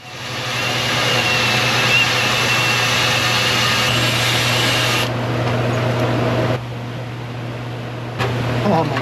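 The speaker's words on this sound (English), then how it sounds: "As I wire brush the layers away, the pocket screwdriver gets the corners" A wire brush scrapes layers of paint off the body of a 1962 C10 pickup truck, a loud, steady abrasive rasp that drops in level partway through and continues.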